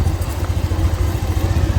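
A vehicle held in first gear uses its engine as a brake on a descent at about 2000 RPM, making a steady, close, low droning rumble with a slight pulsing throb and no talk.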